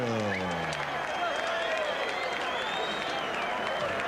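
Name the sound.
boxing arena crowd applause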